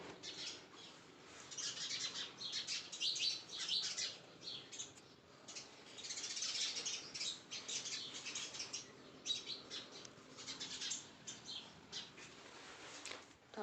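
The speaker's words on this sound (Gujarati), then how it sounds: "આપણે ચકલા રાહ જોવે છે આપણી" Sparrows chirp in a busy, overlapping flurry of quick high tweets that sounds moderately near, waiting to be fed during a household's daily morning routine; the chatter continues steadily throughout with no talking.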